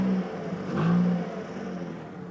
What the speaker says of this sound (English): I'm going to shut up, rev the gas.